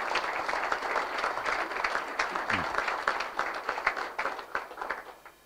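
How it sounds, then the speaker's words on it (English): A modest audience at a charity association meeting in Nottingham gives a round of applause, a steady patter of individual claps of moderate loudness with a brief voice partway through. "I'd like to give a round of applause to Olga for all her work"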